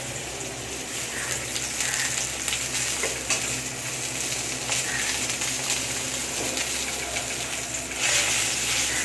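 Eggplant slices coated in turmeric fry in hot oil, giving a steady, close sizzle that crackles and spits continuously, with no voices.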